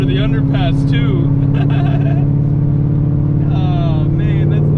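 A C7 Corvette Z06 fitted with a new loud exhaust drones under an underpass, a deep steady engine note holding strong throughout while someone talks over it.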